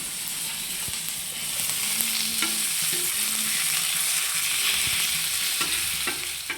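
Masala-marinated fish fries on a flat dosa pan with a loud, steady close-up sizzle, while occasional spatula scrapes and taps cut through and nobody talks.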